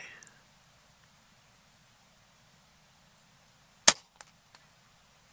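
A single sharp air rifle shot from an Air Arms S510XS Tactical, fired outdoors on a slightly breezy day, crisp and close, followed by a couple of faint ticks and otherwise near silence.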